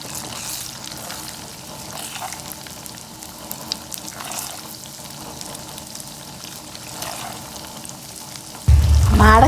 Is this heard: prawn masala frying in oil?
yes